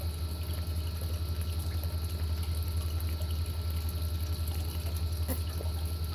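Water pours in a continuous, loud splashing stream that never breaks, with a low hum underneath and no speech.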